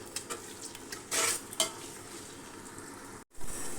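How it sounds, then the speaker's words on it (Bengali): Onions frying with cardamom, cinnamon, bay leaves and cloves in a pot, a soft continuous sizzle broken by a few scraping stirs of a utensil against the metal, fairly close and alone. "দিয়ে আমি এখন পেঁয়াজটা আরেকটু লাল লাল করে ভেজে নিব।"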